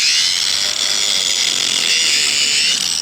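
A stump grinder fitted with new carbide-tipped teeth chews into a stump, making a loud, continuous high-pitched grinding whine that holds steady throughout.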